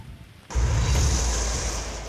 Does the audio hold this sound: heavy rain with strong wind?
yes